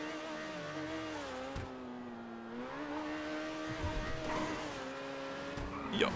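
Overflod Entity MT supercar engine in GTA 5, a high rising and falling revving whine with shifting pitch, some tire noise and a brief burst near the end.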